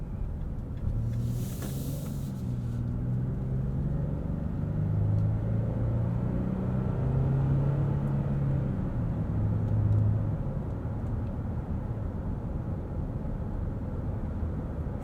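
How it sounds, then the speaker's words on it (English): A 2022 Nissan Frontier PRO-4X pickup with a naturally aspirated V6 and 9-speed gearbox accelerates, heard from the cabin as a steady low engine rumble and road drone that holds level throughout, fairly subdued, with no talk. "Getting up to speed, it's just so quiet for a truck in this class."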